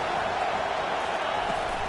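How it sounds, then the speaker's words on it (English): A football stadium crowd roars steadily on a third-down play, a dense, continuous wash of cheering with no breaks. "Decibels rising as the crowd gets behind this defense on third down."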